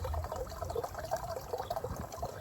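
Water runs into a one-gallon container inside a minivan camper, a close, continuous trickling and gurgling stream with small splashes, moderately quiet and without speech.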